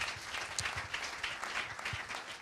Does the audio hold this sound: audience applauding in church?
yes